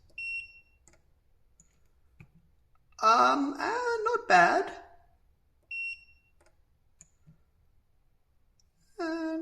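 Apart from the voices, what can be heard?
spot welder beeping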